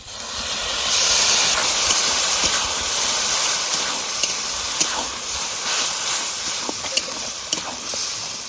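Spice paste of ginger, garlic, onion, green and dried chilli and cumin frying in a pan with fried duck-meat onions, a steady loud hiss and sizzle throughout with a few soft clicks of stirring, no talk.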